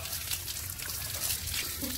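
Natural stream water trickling and splashing over rocks along a trekking trail at Madhavadhara near Visakhapatnam, a continuous close, rushing flow with no break.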